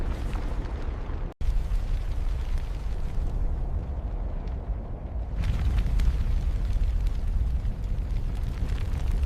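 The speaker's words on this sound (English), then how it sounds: "Explosions echo like the drums of death announcing annihilation." Deep, rumbling booms roll continuously with heavy low-end noise, like distant echoing explosions, interrupted by a sudden brief cut and then growing louder.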